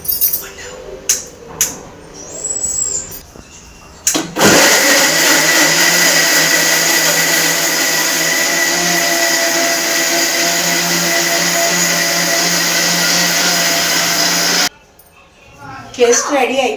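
A mixer grinder whirs steadily for about ten seconds, blending carrots with a little water into a paste, loud and close, with brief clinks and handling noises before it starts and after it stops.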